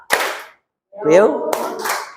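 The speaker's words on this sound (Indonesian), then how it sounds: "Tepuk 1, 2, 3." A group clapping out a rhythmic counting pattern as a classroom icebreaker, with a short burst, a pause, then several sharp claps over a voice.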